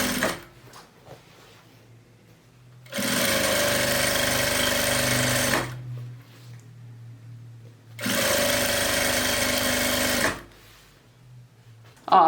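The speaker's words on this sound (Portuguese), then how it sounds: "Novamente, posiciona e costura, tá?" A sewing machine stitches fabric strips for a patchwork rug in two loud, steady whirring bursts of a few seconds each, separated by quieter handling of cloth.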